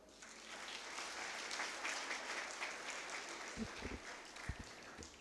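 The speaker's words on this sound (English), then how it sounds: "Can we please give her a warm round of applause again" Faint, steady applause from an audience at a university conference on peaceful and inclusive societies, with a few low thumps near the end as the clapping continues.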